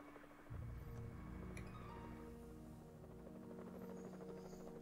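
A helicopter in the video game Evil Genius, over an island base, gives a steady low droning hum and buzz that starts abruptly and holds at moderate level throughout.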